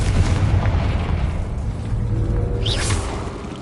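A Confringo fire-blast spell in a Harry Potter video game, a loud, rumbling explosive boom that holds steady with a crackling wash on top and a brief whooshing flare near the end.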